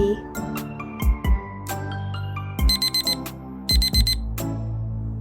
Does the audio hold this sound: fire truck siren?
no